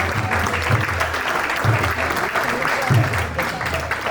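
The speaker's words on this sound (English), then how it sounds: "Let's give our musicians a very large, loud round of applause" A large crowd applauds musicians after devotional bhajans at an ISKCON temple festival, steady thick clapping over a low rhythmic thump, with voices mixed in.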